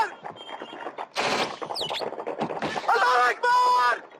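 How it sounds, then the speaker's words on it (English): Real recording of militants firing on a helicopter with a rocket launcher: bursts of gunfire and sharp shots crackle amid shouting voices, with whistling, squealing tones toward the end. "that was actual audio of militants taking a rocket launcher and shooting down a real helicopter"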